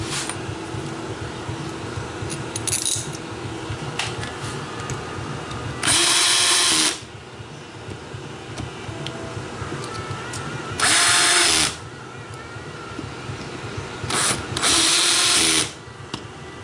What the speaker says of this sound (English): I don't set my drill to get them tight at all